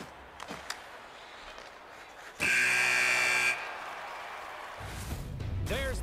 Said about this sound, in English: The buzzer, 20 minutes in the books